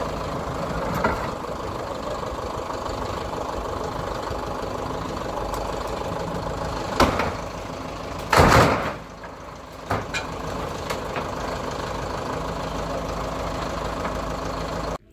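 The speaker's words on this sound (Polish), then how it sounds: "Będzie trzeba odpalić traktor, podnieść i dopiero myśleć, co dalej." A heavy tractor engine idles steadily at close range, a low rumble with a couple of clunks and a louder burst partway through.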